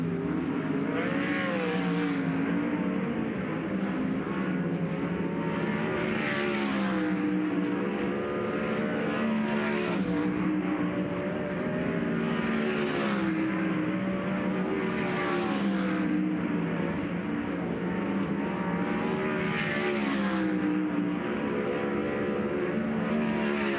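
Sprint race cars lap Central Arizona Speedway in a High Limit Racing session, engines howling continuously in rising and falling waves as the cars circle past at a distance.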